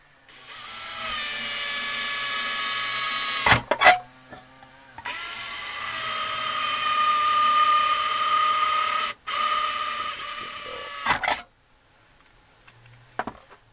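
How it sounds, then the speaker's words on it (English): A power drill whines steadily in several long bursts while drilling holes in a coffee can, stopping and restarting with short pauses between, close and loud. "we're going to drill 4 holes"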